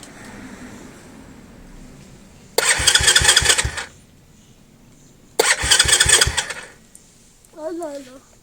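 A motorcycle with a cold engine in chilly weather, cranked twice by the starter in rhythmic bursts, each about a second long, loud and close without catching, with a short vocal sound afterward.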